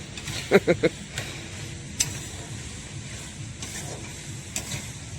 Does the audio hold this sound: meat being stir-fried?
yes